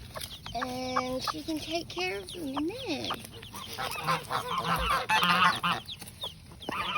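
Newly hatched baby chicks and a hen make high, rapid peeping and clucking calls in a run of varied chirps, close by and moderately loud, with someone speaking briefly over them.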